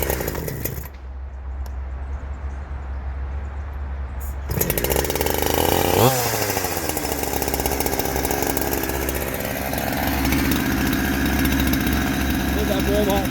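A chainsaw fitted with a shotgun-style muffler warms up, its loud, raspy two-stroke engine running steadily close by, with a brief rev in the middle, and the engine noise goes on unbroken for the whole stretch.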